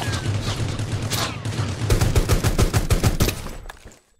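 Rapid bursts of automatic gunfire laying down suppressing fire in the battle royale game Rules of Survival, dense repeated loud shots that cut off near the end, no talk.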